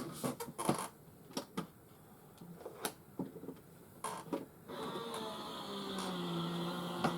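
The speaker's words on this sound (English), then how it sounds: "Do you hear that? That's the Gemini going through." A Gemini electric die-cutting machine feeds plates through after scattered handling clicks and taps, then settles into a steady mechanical motor hum with a rising whine that runs continuously to the end.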